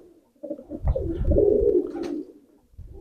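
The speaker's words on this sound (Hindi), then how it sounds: "तो दोस्तों शौक कीजिए इन टेडी कबूतरों का" A teddy pigeon gives a single close, throaty coo that swells and trails off over about two seconds in a quiet setting.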